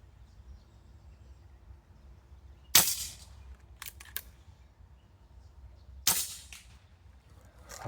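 A PCP air rifle pellet strikes a 4-inch target at about 70 yards, heard as two sharp distant impact cracks a few seconds apart, with a faint smaller tick between them over quiet outdoor background.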